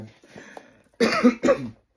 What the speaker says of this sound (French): puis je commence à tousser